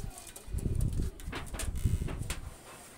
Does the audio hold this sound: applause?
no